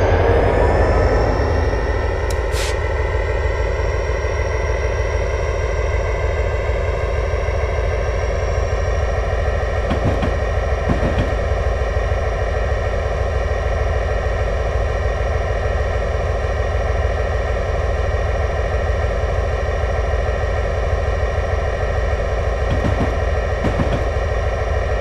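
A freight train in a video game simulator rolling down the steep grades of the Cascades, a loud continuous engine drone with steady layered tones and occasional brief clicks, unbroken for the whole stretch.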